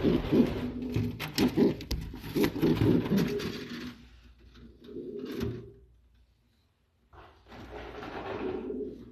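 Low, soft cooing of pigeons on a pigeon farm in Saudi Arabia, with rustling and light tapping around them, fading into a brief quiet before more cooing and shuffling returns.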